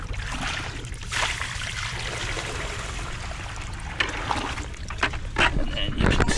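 Water splashes and gurgles steadily into a Nugget Bucket loaded with gold prospecting material outdoors, a continuous close pouring rush with a few sharper splashes near the end.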